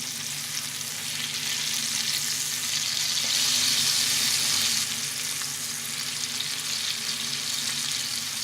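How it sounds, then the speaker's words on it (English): Bacon and beef fry in a pan with a continuous loud sizzle and crackle that swells briefly midway, steady and close with no talking. "Bacon, as you know, curls when it cooks."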